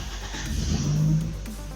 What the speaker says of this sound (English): The key is already matched, so we can start the car.